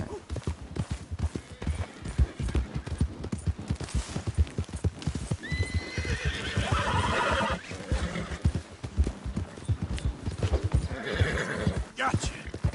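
A horse gallops with quick rhythmic hoofbeats and lets out a loud whinny midway in a PS4 video game, with a voice speaking now and then over the action.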